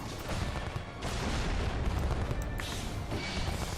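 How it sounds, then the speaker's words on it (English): Dense, continuous bursts of booming explosions like fireworks fill a Final Fantasy XIV battle, loud and layered with crackling blasts and no pause between them. "Are they throwing fireworks at me?"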